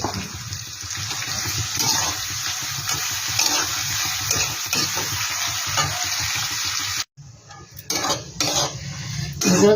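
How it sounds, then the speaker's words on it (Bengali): Onions sprinkled with a little salt fry in a wok with a steady, loud sizzle, while a spatula scrapes and stirs in repeated strokes. The sizzle briefly drops away near the end, then returns in bursts. "এবার আমি পেঁয়াজগুলো দিয়ে দেবো ভেজে নেব"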